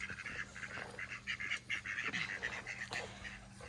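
Moulting mallard ducks quacking in a steady chatter of repeated calls, fairly close but soft, with no talking.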